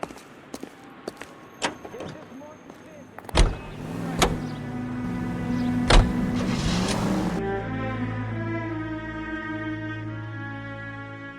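A car in the L.A. Noire video game, with door clunks and mechanical thumps at first, then a steady engine drone that settles into an even, sustained hum. Some talk is present.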